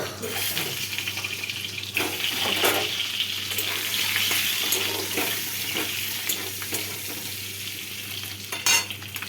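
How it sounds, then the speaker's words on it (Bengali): Eggs fry in a wok, giving a steady, close hiss with scraping stirring sounds throughout and a brief louder clatter near the end. "দেখো আমার ডিম ভাজা হয়ে গেছে"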